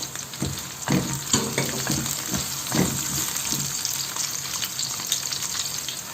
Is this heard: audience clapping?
no